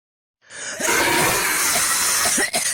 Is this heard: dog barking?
no